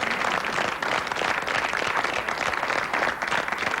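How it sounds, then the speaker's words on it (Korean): Steady, dense applause from a studio audience at a televised Korean youth debate program, continuous clapping filling the whole stretch without speech. "박수로 보내드릴까요?"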